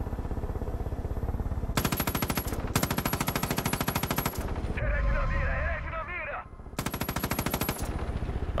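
Helicopter machine gun in Far Cry 5 firing loud, rapid bursts separated by short gaps, with a warbling electronic tone in one pause before the fire resumes.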